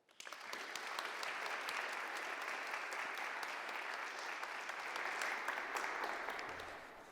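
An audience applauds steadily for several seconds to welcome Dr David Bernhard onstage at a security talk, a dense, even wash of clapping that starts abruptly and tapers slightly at the end.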